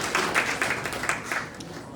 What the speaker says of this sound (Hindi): सभी लोग इनके लिए भी तालियां बजाएं।